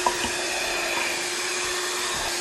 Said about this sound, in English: Now that I've worked my hand mixer half to death